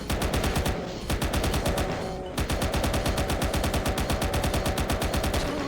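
Rapid, relentless automatic gunfire in the Doom map UAC - Down to Earth. It fires as a dense, evenly spaced stream of loud shots with one brief pause before the burst resumes, and no talk.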